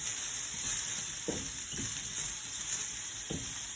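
Spring onion whites sizzle steadily in a hot stir-fry pan for a Chinese spicy and sour dish, a constant bright frying hiss broken by a few soft stirring knocks, close and with no talking.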